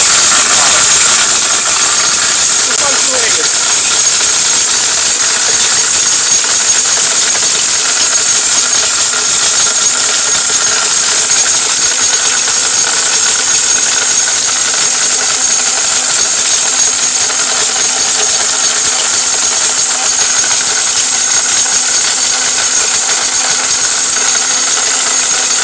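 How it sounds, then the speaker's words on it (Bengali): A Tufan high-power blender grinding turmeric gives out a loud, steady, high whirring roar that holds unchanged for the full stretch, with a voice partly audible over the motor. "তুফান ব্লেন্ডার, এটা তুফান, একদম ঘূর্ণিঝড় চলতেছে ভিতরে"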